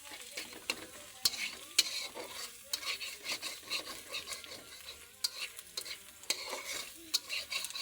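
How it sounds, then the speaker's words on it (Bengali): Eggs frying in a pan are stirred and turned, producing a soft continuous sizzle punctuated by frequent sharp clicks and scrapes of a utensil against the pan, close and fairly quiet. "ডিমটাই নাড়াচাড়া দিতে দিতে হয়ে যাব বন্ধুরা।"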